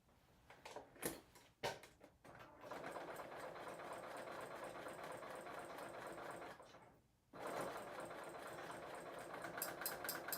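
A serger sews a cover chain stitch on scrap fabric, its quiet rapid whirring starting after a few taps, running steadily, pausing briefly, then resuming.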